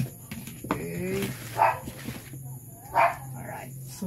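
Dogs bark in short yips and yaps, a few separate bursts at a moderate distance, heard beneath a person talking.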